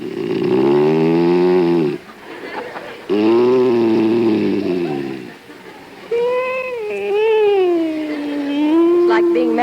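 A man snores loudly in an old radio comedy, three long drawn-out rasping breaths in a steady rhythm, the last one wavering and more tonal.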